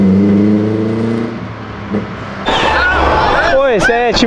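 A Citroën DS3 with no exhaust muffler revs and accelerates, its raw engine note climbing loudly in rising sweeps near the end, while people talk over it nearby.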